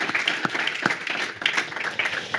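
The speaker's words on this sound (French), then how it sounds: "Vous pouvez d'ailleurs vous applaudir, comme ça on sait bien que vous êtes là." A small audience claps at a renovation trade event on a campus in Lille, with distinct individual hand claps forming a loose, moderately near burst of applause.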